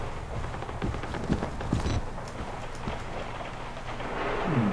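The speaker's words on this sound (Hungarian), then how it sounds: "Ez eső?" Rain in the horror video game Outlast, a steady hiss of falling rain with scattered soft thuds and patters, moderately loud and continuous with no talk.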